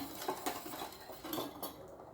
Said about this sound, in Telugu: ఇందులో షుగర్ ఉంటుంది కాబట్టి కొంచెం బాగా కలుపుకోవాలి.